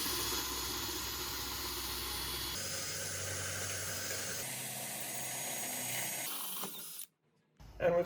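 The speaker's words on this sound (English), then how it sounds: "First, I've got to drill these holes out to 7 mil." Power drill boring holes out to 7 mm in metal for M5 rivet nuts on a 1934 Chevy sedan-based utility, a steady continuous whir in several runs, briefly stopping near the end before restarting.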